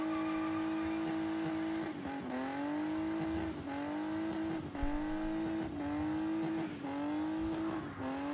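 Nissan Z doing a stay-at-home burnout, engine revving hard in repeated rising-and-dropping pulls against the limiter, steady loud roar with tire noise, no voices.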